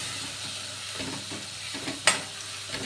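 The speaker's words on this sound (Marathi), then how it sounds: "थोडंसं फ्राय होऊ द्यायचं, लसणाचा कच्चापणा निघून जाईल।" Garlic and green chili frying in oil for a rustic gram-greens vegetable dish, a steady soft sizzle with occasional stirring scrapes and one sharp clatter near the end, close and alone with no talk.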